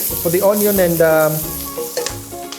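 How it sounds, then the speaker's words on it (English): Onion and garlic frying in oil on low heat, a soft sizzle running beneath tonal sounds that could be a voice or music in the foreground. "just fry it on low heat"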